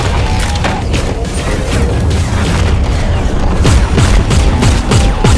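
Mechanical clanks and ratcheting of a weapon being reloaded in the Transformers Galactic Trials game, dense and loud with booming impacts mixed in, steady throughout.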